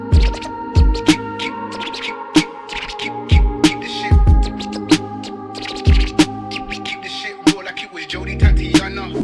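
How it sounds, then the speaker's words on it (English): A vinyl scratching vocal sample used as texture in a hip-hop beat, with repeated scratch bursts riding over a looping drum groove and sustained melodic tones, loud and busy throughout. "Then we found this vinyl scratching vocal."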